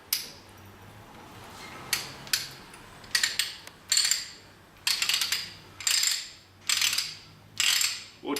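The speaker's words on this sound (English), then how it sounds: "we turn this pawl the opposite way, which reverses the ratcheting action, and we can wind it back off" A Garrick hand ratchet pipe threader clicks as its pawl is reversed to wind the die back off a taper pipe thread, giving close, sharp bursts of metallic ratcheting roughly every second with brief gaps between them.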